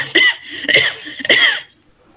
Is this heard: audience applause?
no